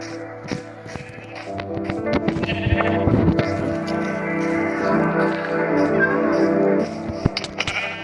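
Sheep bleat repeatedly up close, overlapping cries over a busy background with scattered taps and knocks.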